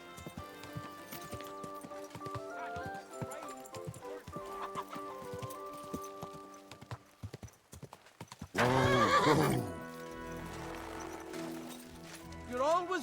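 Horse hooves clip-clop in a steady rhythm in the medieval game Kingdom Come: Deliverance 2, then a loud, close whinny breaks out, followed by softer hoofbeats and the horse's snorts. A player talks faintly in the background.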